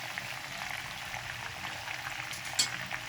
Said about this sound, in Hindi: इसको हम दूसरी साइड से भी ऐसे ही थोड़ा सा गोल्डन फ्राई कर लेंगे।